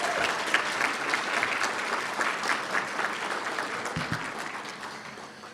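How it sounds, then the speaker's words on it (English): An audience at a student awards night gives a big round of applause for PTK students, a steady wash of clapping from a crowded room that fades slightly toward the end. "give our PTK students another big round of applause"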